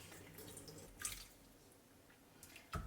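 Whey drips and splashes from homemade ricotta held in cheesecloth, a few quiet wet drops and small trickles in a kitchen, close but soft and sparse.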